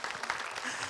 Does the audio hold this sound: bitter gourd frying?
no